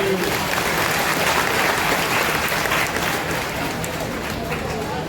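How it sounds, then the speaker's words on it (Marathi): A large crowd claps steadily and densely at a political rally held for Devendra Fadnavis, the applause loud, close and unbroken throughout. "देवेंद्रजींच्यासाठी एकदा शेवटच्या टाळ्या वाजवा"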